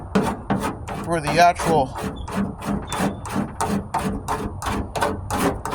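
Sanding prep with 40-grit paper on the rusted tailgate of a 1998 Ford Ranger gives a steady run of rhythmic, close rasping strokes, roughly several per second, with someone speaking briefly early on.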